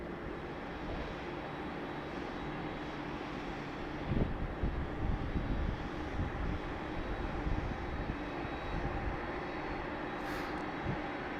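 A Boeing 747 airliner at Sydney Airport sends a steady, broad jet-engine roar across the whole stretch, moderately distant and fairly even in level, swelling slightly midway, with no voices.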